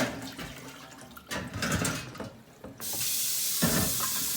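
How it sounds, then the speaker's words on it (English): Hot tap water runs into a sink or bucket, a steady broadband hiss and splash that starts and stops in bursts, then settles into a continuous loud fill, close by with no talking. "My water's nice and hot,"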